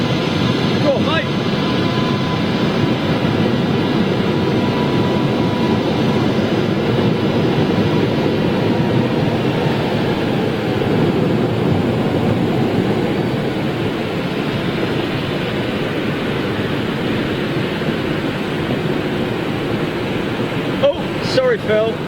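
A Saudi Boeing 777 jet at Schiphol airport produces a continuous broad roar that stays loud and even for over twenty seconds, its distant whoosh like rushing air.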